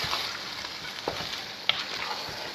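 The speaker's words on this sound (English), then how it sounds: "let's get back to stirring this all through" Butter chicken sauce sizzles in a pan while being stirred, a steady frying hiss broken by a few soft scrapes and clicks of the utensil, close and continuous without speech.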